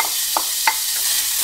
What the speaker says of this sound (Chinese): 现在我们先将洋葱倒进锅里